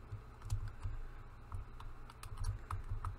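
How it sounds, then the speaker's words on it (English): Computer keyboard keys pressed repeatedly while playing a SpongeBob game, scattered clicky taps at an uneven rhythm, fairly close and moderately quiet with no talking. "So arrow keys and enter."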